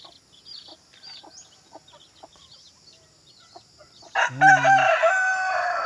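Rhode Island chickens on a small farm give scattered soft clucks, then a rooster crows loudly and close in the last two seconds.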